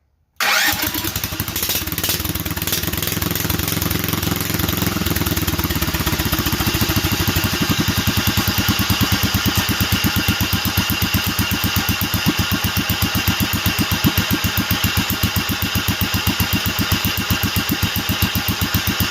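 A Duromax 440cc engine with upgraded jets and pilot starts and settles into a steady, rhythmic idle after a carburetor adjustment, a loud, close, even chugging that runs alone for the whole stretch.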